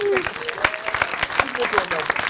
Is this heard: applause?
yes